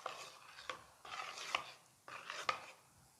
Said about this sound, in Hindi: अब हमें अच्छे तरीके से इसे मिक्स करना है